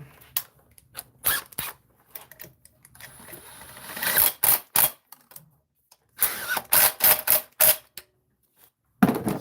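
An impact wrench works on a Dodge Durango water pump in short, loud rattling bursts separated by pauses, with a longer run in the middle of the sequence.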